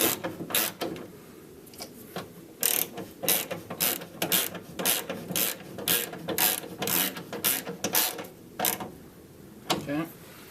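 A ratchet tightens the window motor bolts inside the door of a 2001 Dodge Dakota Quad Cab, clicking in repeated short bursts of close, crisp pawl clicks with brief pauses between strokes.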